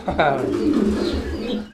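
A pigeon gives a deep, throaty coo close by, a single rolling call lasting about a second and a half.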